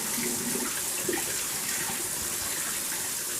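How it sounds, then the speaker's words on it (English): Water pours steadily through a funnel into a bottle to rinse out yeast while making mead, a continuous close rushing and gurgling flow throughout. "use some water to make sure all the yeast is out of the funnel"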